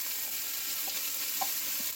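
Two onions frying in an enamelled cast-iron pot over medium heat for cabbage soup, a steady soft sizzle running throughout with faint stirring clinks, no talking.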